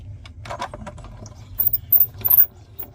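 Delicate Forest die set pressed through a hand-crank die-cutting machine with paper, giving a soft, steady mechanical ratcheting and gear grind under a low rumble, with brief brighter clicks toward the end.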